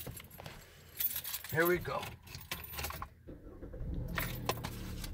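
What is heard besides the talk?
keys jangling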